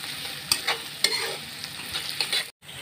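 Onions frying to a deep brown in hot oil: a constant close sizzle broken by a few sharp stirring knocks and scrapes, then a sudden brief drop to silence near the end, no talking.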